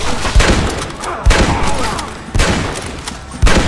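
Heavy gunfire during a gate assault in Red Dead Redemption, with dense overlapping shots and a loud boom roughly every second over a constant crackle of more distant fire.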